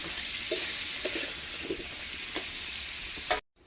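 Potatoes and pointed gourd frying in oil in a pan with a little turmeric, a steady close sizzle broken by a few soft stirring scrapes, ending abruptly, with no talking.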